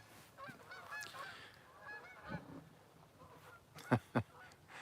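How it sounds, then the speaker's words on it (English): Geese honk in a scattered flock, distant calls building to two loud, close honks near the end over quiet outdoor ambience. "Geese, you can hear them again. Here they come."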